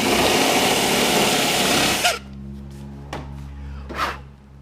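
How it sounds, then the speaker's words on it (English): A power drill whines steadily for about two seconds while boring out a plastic Knight Rider season-one nose fog light grill, then cuts off, leaving a low hum and a few sharp taps and clicks. "I'll drill this one out a little bit more."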